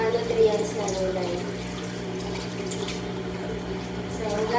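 Vegetables for ginataang gulay rinsed under a running kitchen tap, a steady, close splashing and trickling stream that carries on without a break.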